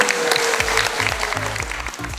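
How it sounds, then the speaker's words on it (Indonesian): A crowd applauding at a community gathering by Jerman Beach, steady dense clapping throughout, fairly loud and close. "Tepuk tangan untuk kita semua."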